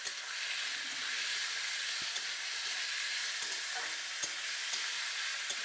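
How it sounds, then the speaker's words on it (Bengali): Potato, peas, salt and turmeric sizzle steadily in a pan for poha, a close, even hiss with occasional small pops and crackles, no voices. "তো ভালোভাবে এই উপকরণগুলো সব একবারে ভালোভাবে ভেজে নেব।"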